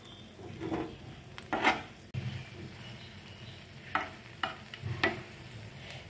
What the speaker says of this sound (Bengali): এইভাবে নিখুতিটা ভাজা হয়।